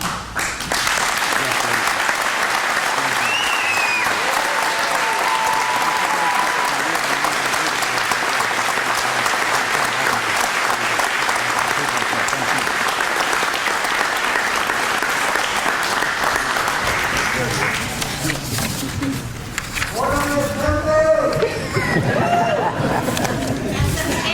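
An audience breaks into sustained, dense applause that carries on for about eighteen seconds before tapering, after which voices and chatter take over.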